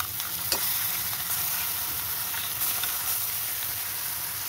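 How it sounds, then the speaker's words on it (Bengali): Boiled green pea paste with spices is stir-fried in a pan, giving a continuous close sizzle with occasional scraping stirs throughout. "আমি এইটাকে এবার শুকনো করে কষিয়ে নেব।"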